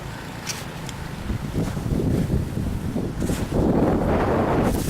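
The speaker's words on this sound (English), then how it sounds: "Big gust of wind came and still got my eye." A big gust of wind sweeps through a snowstorm outdoors, a broad roaring rush that builds and stays strong near the microphone, buffeting it with low rumble.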